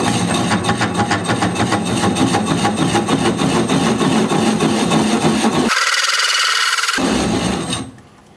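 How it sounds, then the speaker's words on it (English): A wood lathe spinning at 200 RPM while a hole is drilled into a turned wood piece, a loud steady whirring drone with rhythmic pulsing, briefly interrupted before cutting out near the end. "Lathe is spinning at 200 RPM"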